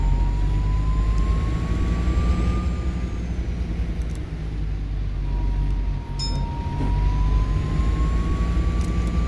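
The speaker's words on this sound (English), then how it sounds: "Very whistly bus, this one, isn't it?" An Optare Solo bus in the OMSI 2 driving game makes a thin, rising and falling whistle over a steady low engine rumble, heard alone with no talk.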